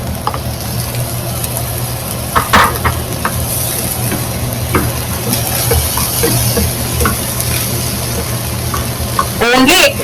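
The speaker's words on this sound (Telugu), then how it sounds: "నెక్స్ట్ ఇందులో మనం ఇందాక వేయించి పెట్టుకున్న ప్రాన్స్ వేసేద్దాము" Prawns sizzling in a pan with spicy street-style egg fried rice, a continuous loud frying hiss with scattered scraping and stirring clatters throughout.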